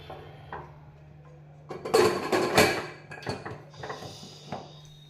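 A metal lid set onto a cooking pot of foxtail millet khichdi, a few close clinks and knocks of metal against the rim amid soft kitchen handling, with no voices.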